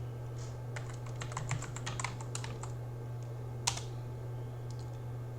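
Quick keystrokes clatter on a computer keyboard while a username and password are entered during setup of an Orange Pi Zero running Armbian, a burst of light taps followed by a couple of isolated presses over a steady low hum.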